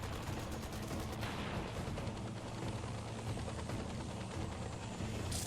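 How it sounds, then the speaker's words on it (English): Continuous rapid machine gun fire from a rescue helicopter in the game Dustoff Heli Rescue, a dense, steady rattle blended with rotor noise, fairly faint and unbroken throughout. "Gun, do your thing."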